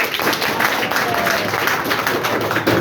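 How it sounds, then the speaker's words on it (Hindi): An audience claps loudly and continuously, a dense, sustained roar of applause from a crowd of students. "एक बार जोरदार ताली बजाइए इनके लिए"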